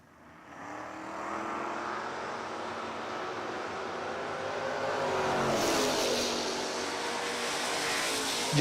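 At a footbrake drag racing event, a Camaro and another car roar off the line and accelerate hard, a loud sustained engine drone that swells and rises in pitch, heard from trackside.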